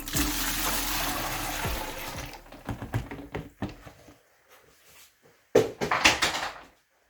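Dye-laden water pours into a bucket in a steady, rushing splash for about two seconds, then gives way to scattered clinks and knocks of the container being handled.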